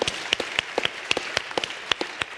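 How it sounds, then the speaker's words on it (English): Light, scattered clapping from an audience at a justice summit: a few people clapping with individual, unevenly spaced claps that stay moderate in level throughout. "And let's give her another round of applause."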